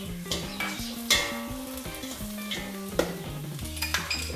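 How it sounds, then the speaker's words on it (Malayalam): Onion, green chilli and capsicum sauté in a pan for chicken manthi with a soft sizzle. Repeated metallic scrapes and taps of a spoon against the pan sound up close, with no talking. "ഇതിട്ടൊന്ന് ജസ്റ്റ് വഴറ്റിയെടുക്കുക"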